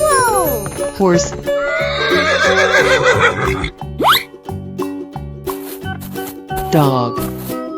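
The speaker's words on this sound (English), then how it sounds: "Horse." A horse neighs loudly in a 3D animal video game, giving a long whinny over bouncy game music with plopping effects, and a second whinny comes near the end.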